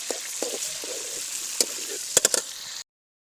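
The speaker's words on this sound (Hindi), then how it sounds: "डाल रहे हैं टमाटर क्योंकि प्याज हो गए हैं ब्राउन और अभी टमाटर डालेंगे तो जो है फिर हम चम्मच को हिलाएंगे" Tomatoes added to browned onions in a frying pan for achari biryani set off a steady close sizzle, broken by a few clanks and scrapes of a stirring spoon, before the sound cuts off abruptly.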